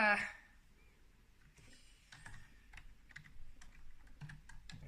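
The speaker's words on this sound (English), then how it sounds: "sorry, not typing very properly" Quick, uneven bursts of keystrokes on a computer keyboard while code is entered, with clustered clicks after a brief pause, close and fairly quiet over low room noise.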